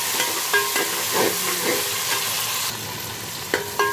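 Green chilies and tomato fry in a garlic tadka for masoor khichdi, a close, steady sizzle with scraping stirs and a few sharp metallic clinks. The sizzle eases slightly toward the end.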